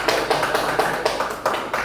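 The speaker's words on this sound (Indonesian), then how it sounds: "Tepuk tangan untuk Dewi" A third-grade class clapping together for a student, a rapid, even run of claps that carries steadily for about two seconds, close and fairly loud, with no talking.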